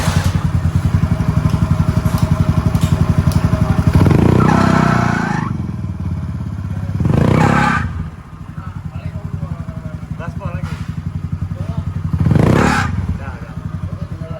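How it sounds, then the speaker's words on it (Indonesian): A Yamaha Mio J scooter with a noisy CVT runs close by, its rattling, buzzing drone swelling in several revs over steady idle clatter, while someone talks throughout. "terdapat suara berisik di CVT-nya kayak gini"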